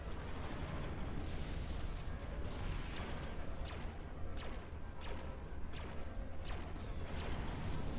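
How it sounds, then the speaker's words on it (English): A frigate blowing apart in Star Wars Battlefront II, heavy continuous rumbling explosions with repeated whooshing bursts layered over a dense roar lasting several seconds. "First frigate destroyed."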